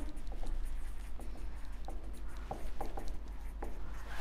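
Chalk or marker scratches in short, quick strokes on a classroom board during a biology lesson on cell division, fairly faint over a low steady hum.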